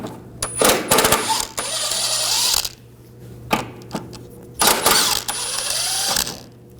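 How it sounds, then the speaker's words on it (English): A 13mm socket ratchet works bracket nuts off a 2006–2009 Audi S4 during front control arm replacement. Bursts of close, clicking ratchet strokes are broken by brief pauses, with some metallic clinks and no speech. "This is a 13mm socket. We'll take these nuts off"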